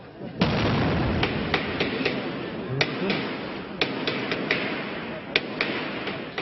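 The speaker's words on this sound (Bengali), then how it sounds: "মুহুর্মুহু গুলির শব্দে প্রকম্পিত সিলেটের দক্ষিণ সুরমার শিববাড়ি এলাকা, সঙ্গে বিস্ফোরণের শব্দ।" Repeated gunshots and explosions ring out during an army operation in the Shibbari area of South Surma, Sylhet: sharp, irregular cracks and bangs over a continuous rumbling background, some close and loud, others more distant.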